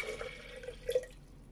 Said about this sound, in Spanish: Vamos a echar el vaso de 8 onzas de agua.